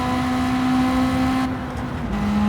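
Front-wheel drive touring car engine in Gran Turismo 7 holds a steady, loud drone at constant revs, its pitch dipping slightly near the end.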